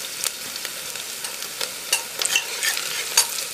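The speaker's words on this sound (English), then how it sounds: "we'll cook these onions till they become soft and change their color" Soft onions and chopped ginger frying in a pan, giving a steady, moderate sizzle with scattered crackles and light stirring clicks; no voices.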